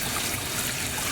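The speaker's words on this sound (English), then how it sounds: "we'll immediately run cold water to bring down the temperature" Cold tap water runs steadily over freshly drained cooked potatoes, a loud, continuous close-up rushing stream with no pauses or voices.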